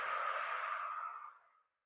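Slow, airy exhale through the mouth during Pilates breathing, one soft, steady breath close to the ear that fades out smoothly after about a second and a half.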